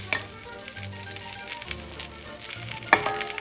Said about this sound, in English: we're gonna brown the sausages